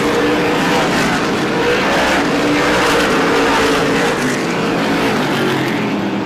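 Race cars at Star Speedway, in an SBM 125 race, roar side by side in a loud, continuous engine drone with shifting pitch as the pack runs close, no voices over it.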